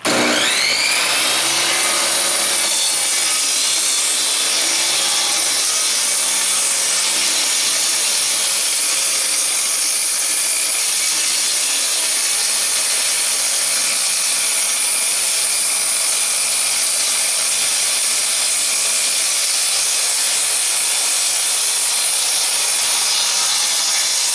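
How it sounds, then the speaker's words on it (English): Table saw shaving the edge of a wooden board: a loud, sustained whining cut that spins up at the start and holds steady, with no talking over it. "I'm going to turn the table saw on, and watch how it shaves off the edge of this board"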